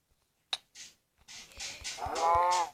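A cow moos in a video game, a rising, drawn-out low call heard close and alone after a few soft shuffling clicks.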